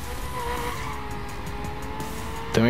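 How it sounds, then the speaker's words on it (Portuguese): An Aston Martin drifting in The Crew, its engine droning steadily with a sustained tire squeal, and a sharp burst of skidding right at the end. "Também driftar com a Aston Martin"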